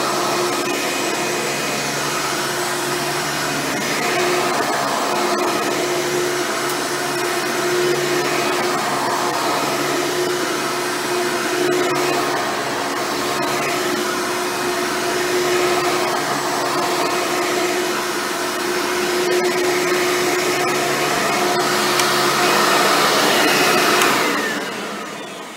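A Hoover upright vacuum cleaner with a single row brush roll runs continuously with a steady whining motor drone, loud and even throughout before it cuts off at the very end.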